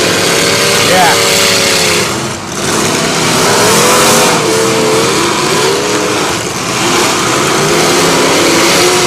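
Race cars throttle around the track, their engines roaring loud and continuous with rising and falling revs, while voices talk over the din.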